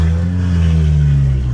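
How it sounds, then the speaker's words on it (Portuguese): A Porsche Panamera engine roars loud and close, a deep, steady low-pitched rumble sustained without a break. "O ronco do carro tá animal, hein, mano."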